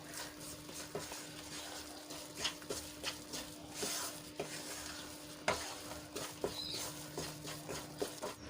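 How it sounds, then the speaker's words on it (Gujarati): Gram flour roasting in ghee for mohanthal, stirred steadily in a pan: a continuous soft sizzle with repeated scraping strokes of the spoon, close and fairly quiet, no talk. "તો આ રીતે આપણે સતત એને હલાવતા રહીશું"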